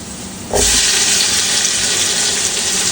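Tomato tipped into a hot pan of beef juice, wine and butter for steak spaghetti sets off a sudden loud, steady sizzle about half a second in, hissing evenly to the end with no talking.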